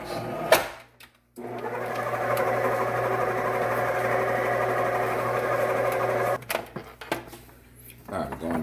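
An electric mixer blends orange pound cake batter with added flour, a steady close motor whir that runs for about five seconds, then stops, with brief clatter and handling around it.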